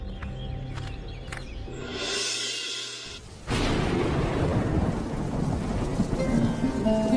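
Rain falls in a Bengali cartoon, with distant thunder rumbling at first before a loud crack of thunder breaks in and a steady, heavy downpour takes over.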